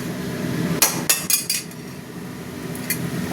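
A metal spatula scrapes and clanks against a pan while tossing cabbage with spices, a few sharp close knocks in quick succession followed by quieter scraping, with no talk.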